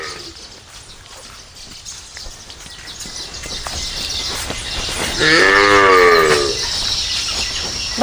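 Cattle on a farm, with one loud, close moo rising midway over an outdoor background, with no talking.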